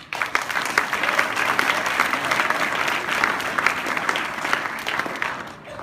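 At a national parliamentary debate final, the audience breaks into applause for the finalists, a full, lively patter of many hands that rises quickly and stays strong before trailing off at the end.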